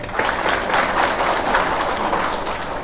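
Congregation applauding during a sermon, a short burst of full, continuous clapping from many people at even loudness, without talking over it.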